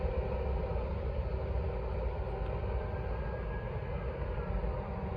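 A Norfolk Southern freight train passing through Gaffney, a continuous broadband roar and rumble of rolling cars that holds steady throughout, moderately loud and with no talk.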